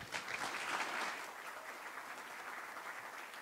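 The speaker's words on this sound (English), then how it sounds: "A big, big round of applause, please." A conference audience applauds a speaker, loud at first and then settling into steady clapping that continues to the end.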